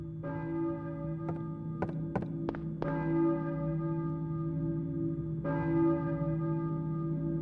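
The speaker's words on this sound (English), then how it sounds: "I hear a church bell, maybe." A church bell in the horror game Silent Hill tolls several times, resonant metallic strikes with long ringing decay, some hits in quick succession, then a final toll after a pause, moderately loud over a low ambient hum.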